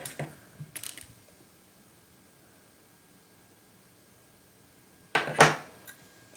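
Loose threads snipped off sewn fabric with scissors, a few quick small clicks near the start and a louder cluster of close snips toward the end, separated by a quiet gap.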